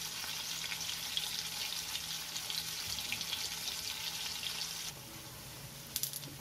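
Malabar trevally fish fillets frying in oil on a tawa, a continuous soft crackling sizzle with occasional pops, fairly close and steady throughout.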